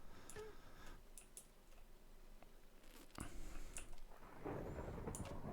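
Thunder rumbling through a modded video game, low and diffuse with several sharp clicks and ticks scattered over it, swelling louder toward the end.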